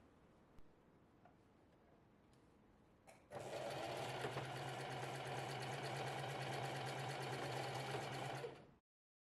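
After a quiet stretch broken by a few faint clicks, a sewing machine starts running loud and steady, stitching the bottom edges of a small fabric pouch, then cuts off abruptly.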